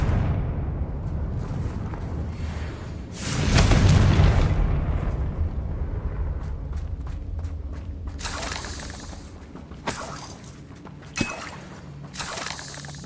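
A Confringo spell blast goes off in a Harry Potter video game, a deep booming explosion swelling amid continuous battle noise, followed by crackling debris and sharp impacts, with no talk.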